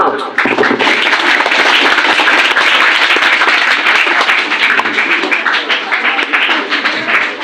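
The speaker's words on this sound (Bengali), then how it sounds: "সবাই করতালির মাধ্যমে একে অপরকে ধন্যবাদ জানাও" Students clap their hands together in sustained, loud applause at a school annual exam results day gathering; the dense clapping runs steadily through the whole stretch with no break.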